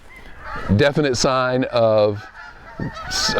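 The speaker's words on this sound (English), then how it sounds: "I hope you can hear the geese that are flying over the house right now." Loud, nasal honking from several geese passing close overhead above a house in St. Lawrence County in fall, the calls repeating in bursts, with someone speaking briefly between them.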